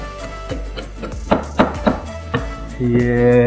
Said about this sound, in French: on coupe à moitié, puis après ça, on fait des demi-rondelles